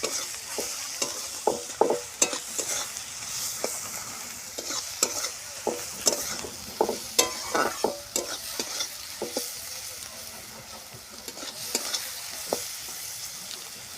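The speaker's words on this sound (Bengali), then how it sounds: "দিয়ে ভালো করে পেঁয়াজটাকে ভেজে নেব। যতক্ষণ না লাল লাল হয়ে ভাজা হচ্ছে ততক্ষণ ওটাকে আমি এইভাবে নাড়তে থাকবো।" Onions sizzle steadily while being stirred in a pan with a little sugar, the spoon scraping in irregular clinks and rasps over a constant hiss, close and fairly loud with no talk.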